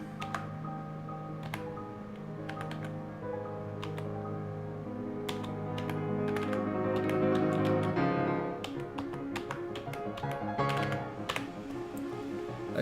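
A passcode is typed on a keyboard as scattered, close key clicks in short irregular bursts over a humming background.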